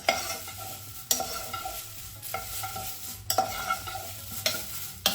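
Coriander seeds and other spices for chili powder rattle and scrape around a dry pan as they are stirred, with four sharp clacks of the spoon at fairly regular intervals, close and loud.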